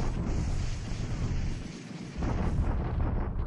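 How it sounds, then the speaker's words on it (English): Artillery bombardment in a World War II strategy video game, a continuous low rumble of distant explosions with a brief dip midway, then heavier booms. "We're on to bombardment of Clark again."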